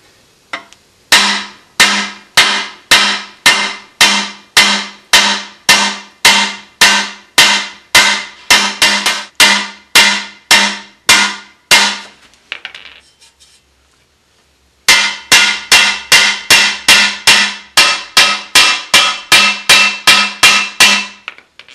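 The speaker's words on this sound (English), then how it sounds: "we're going to do some old school panel beating here" Hammer blows from old-school panel beating on the metal body of a Rambler car, struck in a steady rapid series of sharp metallic clangs, pausing briefly near the end before the hammering resumes.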